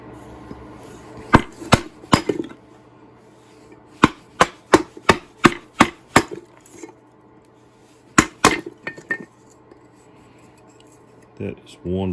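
Poplar pieces split apart on a DIY kindling splitter, heard as sharp cracks and chops in bursts of several quick hits with pauses between, close. A voice talks during parts of it.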